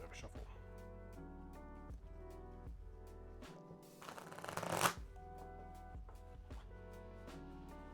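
A deck of game cards for the Frosthaven board game gets a riffle shuffle: one brief, rising crackling burst that builds and then snaps to a stop, heard over steady background music.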